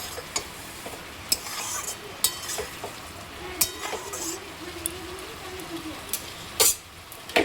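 Cabbage curry being stirred in a pan after the lid comes off, a spoon scraping and clinking against the metal in irregular knocks over a soft simmering sizzle, close up with no talk.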